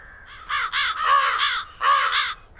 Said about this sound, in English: how can I stop the crows from eating my seeds?